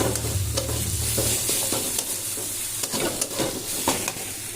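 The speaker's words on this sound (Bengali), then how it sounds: "যতক্ষণ গরমে থাকবো ততক্ষণ নাড়াতে হবে।" Spiced food with turmeric and salt fries in a hot pan as it is stirred, a continuous close sizzle broken by repeated scraping strokes of the spoon, with no voices.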